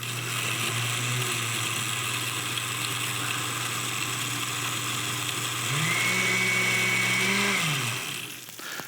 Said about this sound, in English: we'll just give it another quick blend